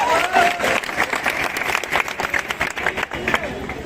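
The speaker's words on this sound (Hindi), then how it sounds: "इन सभी लोगों के लिए एक ताली होना चाहिए हमारे" An audience at a motivational program breaks into loud, scattered applause, clapping in uneven bursts that rise and fall, with voices mixed in beneath the claps.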